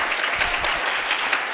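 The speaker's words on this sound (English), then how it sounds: "Please give a round of applause for Kevin." A round of applause for Kevin from a student audience at a spring parliamentary debate event, a brief dense burst of clapping at steady volume.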